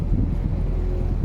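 Headwind buffeting a microphone aboard a motorboat on the Intracoastal Waterway, a brief low rumbling gust of wind noise over a steady engine drone.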